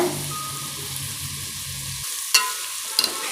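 Curry leaves and green chillies drop into a pan of frying onions, a low crackling sizzle that suddenly cuts out, followed by two sharp bright spits and pops, close by and without speech.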